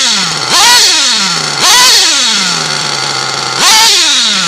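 A tuned Nova/Teckno NT48.3 nitro RC engine runs alone at close range, loud and high-pitched, with three sharp throttle blips that rise and then fall back to a buzzing idle.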